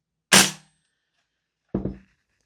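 An airsoft MWS replica rifle running on a gas magazine fires through a chronograph, giving one sharp, close crack, then after a short gap a second report with a quick double snap.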